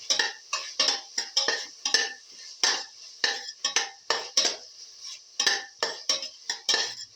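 A utensil scrapes and clinks against a pan while a tomato, fenugreek leaf and rice mixture is sautéed and stirred, a steady rhythm of sharp metallic strokes, close and clear, with brief pauses.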